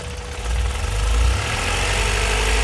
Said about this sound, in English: Unplug the idle valve, and it's idling very, very low.